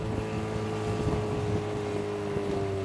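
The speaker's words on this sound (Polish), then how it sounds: "trenują manewrowanie łodzią motorową" Motorboat engine running steadily on the Nysa Kłodzka river during lifeguard rescue training, a continuous low drone with a tonal hum, lowered revs, and wind buffeting the microphone.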